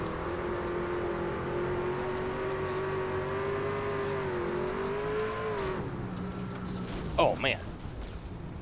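A race truck roars steadily around the Bristol dirt track, then a sudden loud impact cuts through the engine noise, and a voice briefly reacts.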